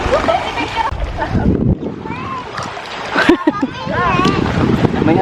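Gusty wind buffets the microphone over splashing water at a stream in Sariaya, Quezon, with voices calling out now and then.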